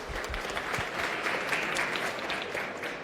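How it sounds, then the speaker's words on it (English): An audience at a talk on touring exhibitions and environmental impact breaks into a steady, moderately distant round of applause, continuous clapping across the whole stretch. "if we can just quickly give her a round of applause"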